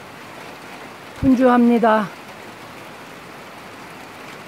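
Heavy morning rain falls steadily as a continuous broadband hiss, and a person speaks briefly over it.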